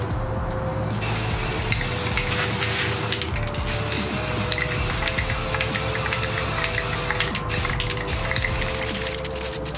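Self-etching spray primer hisses from an aerosol can onto an aluminum platform as the sprayer walks around it. The spray is a continuous close hiss with a few short breaks and faint rattly mechanical noise underneath.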